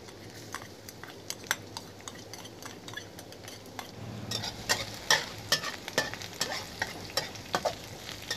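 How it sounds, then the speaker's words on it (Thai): Garlic frying in a pan over medium heat, a soft continuous sizzle with frequent sharp clinks and scrapes of a utensil against the pan, growing busier and louder in the second half, with no voices. "เดี๋ยวมาเจียวกระเทียมกัน"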